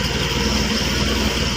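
A small engine idles steadily and evenly after a carburetor repair, a smooth, continuous hum and putter at close range with no voices over it.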